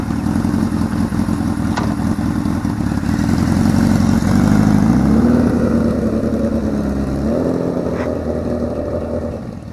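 A kick-started motorcycle engine runs steadily at a rumbling idle close by, its pitch rising briefly in a short rev midway before settling back down, with faint clatter over the constant drone.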